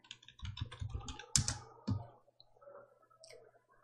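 Quiet keystrokes on a computer keyboard come in a quick run of close clicks, then a firmer tap and a couple of scattered presses near the end.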